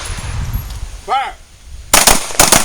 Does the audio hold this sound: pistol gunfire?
yes